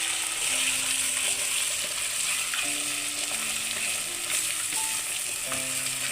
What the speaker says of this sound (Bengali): এবার ডিমটাকে নাড়তে থাকবে ঝুড়ি ঝুড়ি করার জন্য